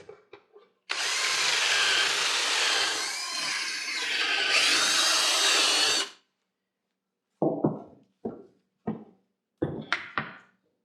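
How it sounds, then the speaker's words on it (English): A power drill with a bit boring and widening holes in wood for a leatherworker's stitching pony, one sustained whining run of about five seconds, followed by several short separate bursts as the bit is worked. "I need to open up the holes vertically a little bit with the drill bit."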